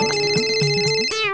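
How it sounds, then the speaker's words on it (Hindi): A telephone rings with a steady electronic ringtone of bright, sustained tones in a domestic TV drama scene. It sounds close and clear, with no talking over it. "ए महेश फोन उठा।"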